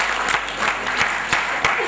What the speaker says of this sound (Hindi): जोरदार तालियों से स्वागत करिए मेरी विदाई का और उनका आने का